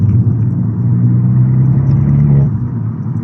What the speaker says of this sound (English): you can definitely hear a lovely amount of induction coming from the car